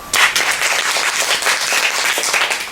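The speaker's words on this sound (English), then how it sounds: "and Logan a big applause" Audience applause at a group speech presentation, dense steady clapping from a room of people, fairly close and sustained throughout.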